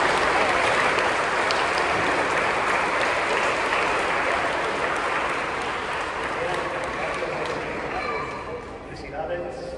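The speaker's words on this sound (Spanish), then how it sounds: "Y luego un aplauso, sí." Church congregation applauding at a Sunday Mass, a steady dense patter of many hands filling the space and slowly thinning toward the end.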